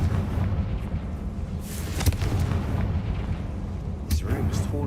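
In Hogwarts Legacy, Confringo blasting curses explode in booming bursts over a continuous low rumble, with several sharp blasts scattered through the stretch and voices heard amid the effects.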